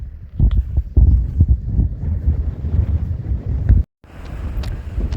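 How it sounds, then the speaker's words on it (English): Strong wind buffets the microphone at an ocean beach around sunrise, a loud, continuous roaring rumble with gusty surges, cutting out briefly near the end before returning as a steadier hiss. "It's still pretty windy"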